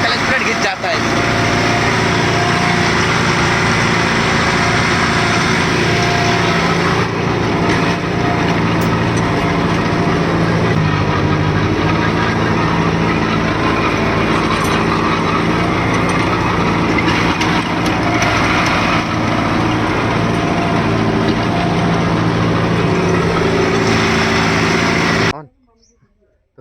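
A tractor with a Maschio rotavator attached runs at a steady, loud drone close by for nearly the whole stretch, stopping abruptly at the end, while someone talks over it.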